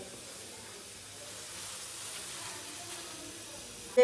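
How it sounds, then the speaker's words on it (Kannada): A pot of ragi flour mixed with water boils on the stove with a soft, steady steamy hiss, faint and continuous throughout. "ಚೆನ್ನಾಗಿ ಕುದೀತಾ ಇದೆ."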